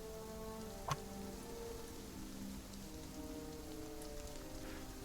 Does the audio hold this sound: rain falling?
yes